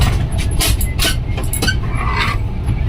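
A passenger train slowing on its approach to Sambalpur station, a loud steady rumble with rattling carriages and intermittent metallic clanks and squeals, heard from inside the moving train.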